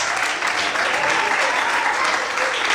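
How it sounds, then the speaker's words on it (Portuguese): Church congregation applauds the Lord during an evening service, a continuous wash of clapping from a crowd at steady loudness throughout. "Você pode aplaudir o Senhor essa noite?"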